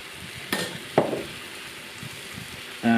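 Lamb dropped into a bubbling base curry sauce for a restaurant-style bhuna, with a couple of sharp splashing hits, then a low steady sizzle and simmer, and a louder burst of frying at the end.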